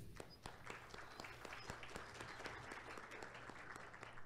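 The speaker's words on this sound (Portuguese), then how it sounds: "peço também uma salva de palmas para o Dr. Coriolano Camargo" An audience at a lecture on data ethics and privacy applauds, a dense, steady round of clapping from many people lasting several seconds, with a faint voice underneath.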